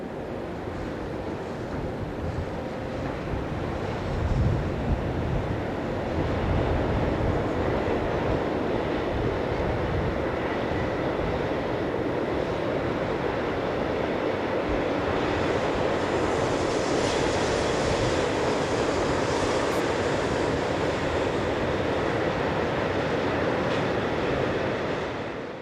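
A train rumbles past on the Rhine line at Rüdesheim, a broad continuous roar of wheels and wagons that swells slightly and holds steady for the whole stretch, with some wind buffeting.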